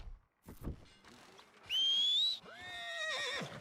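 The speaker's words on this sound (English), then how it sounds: "Horse." A horse in Red Dead Redemption II gives a loud, clear whinny with a rising then falling tone, following soft hoof and rustling sounds, with no speech.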